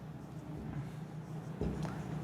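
Chalk or marker writing on a board during a maths lesson, soft faint scratching strokes with a brief louder tap near the end, quiet and close.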